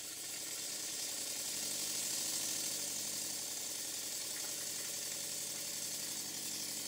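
A Stuart Double 10V model steam engine runs steadily on a workshop bench, giving a continuous hissing rush with a fast, fine mechanical rattle throughout and no talking.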